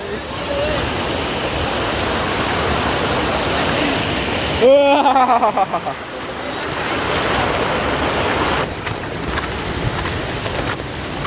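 Steady rushing roar of a waterfall at Bhandardara fills the scene, briefly broken by a splashing, gurgling disturbance nearby.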